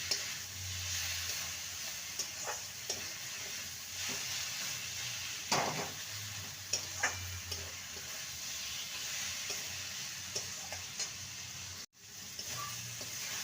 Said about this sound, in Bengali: জিরে গুঁড়ো দিয়ে দু মিনিট নেড়ে নিলেই পালং শাক ভাজা একদম রেডি